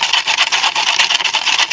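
A gritty homemade glimmer mist mixture being stirred, a continuous close scratchy rasp of grains scraping the container in quick uneven strokes, bright and loud with no voices.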